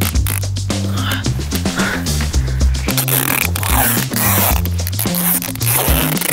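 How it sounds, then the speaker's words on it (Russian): Adhesive tape being pulled and torn off a roll outdoors on a forest road to strap goods to a cart, a run of repeated harsh ripping and zipping strokes close by. "Прикрепляем тележку скотчем"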